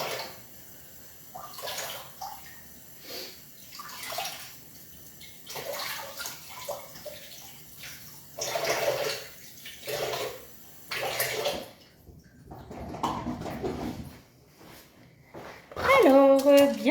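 Tap water runs in bursts as something is rinsed under it in a kitchen, splashing on and off, with someone talking between the runs and a short clatter near the end.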